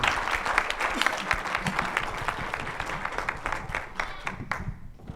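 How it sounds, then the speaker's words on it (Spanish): An audience applauds after a lecture on information handling in social conflict, a loud, dense crowd clapping that runs steadily, then thins and fades toward the end. "Fuerte aplauso, por favor."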